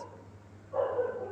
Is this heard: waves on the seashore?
no